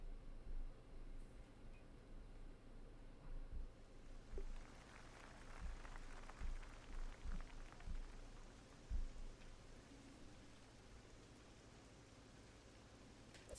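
Steady rain in the Tiger Woods PGA Tour 2014 golf game at Birkdale hisses as a constant wash, with soft low thumps dotted through it and no voices.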